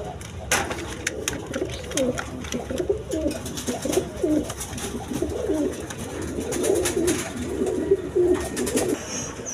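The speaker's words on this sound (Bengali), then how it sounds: "দর্শক এখানে এক পেয়ার ইরানি বারহুমা আছে, দেখেন একবার দেখার মতো কবুতর, একদম বিগ সাইজের।" A pair of big Iranian pigeons coos in low, rolling, repeated phrases close by, over a background of faint clicks and rustling, with no one speaking.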